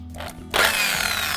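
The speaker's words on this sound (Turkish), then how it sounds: "Saksının delikleri içinde bu panç ucunu kullanacağım. Prize takmadan önce matkabın ucuna panç ucunu sabitledim." An electric drill fitted with a hole punch bit starts up abruptly and cuts into a plant pot, a loud steady whirring grind with a rough, broadband texture that carries on without a break once it begins, up close.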